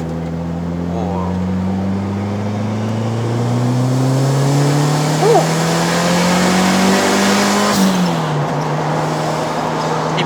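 A 1996 Mitsubishi Lancer Evolution VI engine pulls hard under acceleration, its steady drone climbing in pitch for several seconds before easing off near the end, heard from inside the car with a voice over it.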